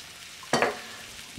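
Beef short ribs brown in a hot pan, with a faint background sizzle and one sudden, brief burst of frying noise partway through, like the meat being stirred or shifted.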